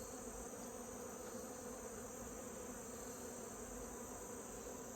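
Bees swarm over an open hive during an inspection, their buzzing a steady, close, dense drone that never lets up, heard alone without speech.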